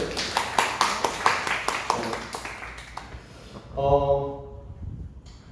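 Church youth group audience clapping to encourage one another before exams, a burst of rhythmic, fairly close claps that fades out, followed by a speaking voice.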